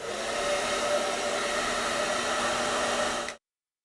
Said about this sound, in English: The hairdryer was perfect.